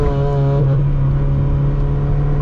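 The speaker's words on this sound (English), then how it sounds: "And it does such a phenomenal job at driving on roads like this." Honda Civic EF hatchback on a hilly road, heard from inside as a loud steady engine drone with a constant low hum and slight pitch shift, no speech.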